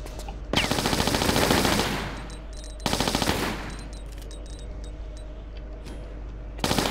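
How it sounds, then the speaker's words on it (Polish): Uzi fire in Tomb Raider The Last Revelation, with two loud rapid bursts of automatic shots and a third starting at the end, separated by quieter ambient game noise. "Ale tego kogoś bym tutaj zdjęła może z Uzi."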